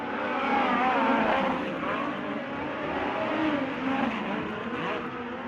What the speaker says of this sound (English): So McIntosh fires it out. Turn number 4, brings it across